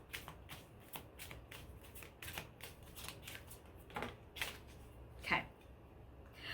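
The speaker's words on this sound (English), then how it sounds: "I'm going to shuffle the cards" A deck of cards shuffled for a pick-a-card love reading, with a run of soft, rapid papery flicks and riffles repeating evenly and one sharper snap near the end, close but quiet, with no speech.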